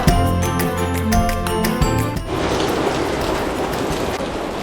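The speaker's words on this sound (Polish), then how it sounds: "Przejechaliśmy niecały kilometr i dopadł nas deszcz." Rain hisses steadily on a cycling route along the Danube, a broad even wash of drops that follows a brief run of jingling, ringing tones and carries on to the end without anyone speaking.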